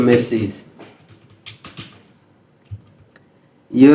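A computer keyboard being typed on while writing HTML for a placeholder in a text area: a few scattered, soft key clicks in a sparse, uneven rhythm, with someone speaking at the start and end.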